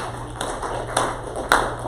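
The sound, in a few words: hands clapping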